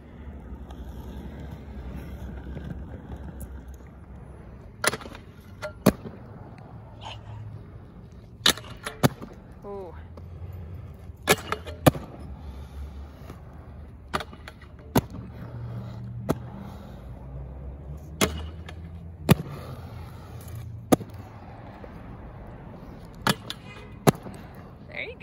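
Inline skating on Roces 5th Element skates with the stock liner: a steady low rolling rumble of wheels on pavement, punctuated by sharp, regular clicks and knocks from strides, with faint wind noise.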